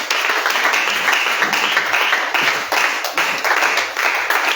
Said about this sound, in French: Est-ce qu'on peut acclamer l'Éternel?